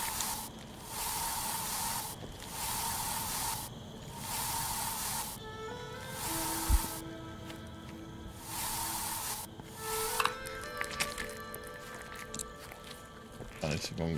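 Spray can spraying in the game I Am Future, a series of regular hissing bursts of about a second each, repeated several times, followed by softer clattering and interface tones, with speech heard faintly.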